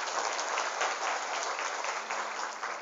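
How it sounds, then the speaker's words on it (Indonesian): A room full of people claps steadily for a few seconds, a dense even burst of applause with no voices over it. "Tepuk tangan untuk kita semua."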